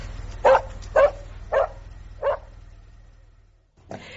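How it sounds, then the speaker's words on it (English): A dog in a radio drama gives four single barks, evenly spaced and close. Then a short pause is followed by a faint rustling noise. "I have a dog."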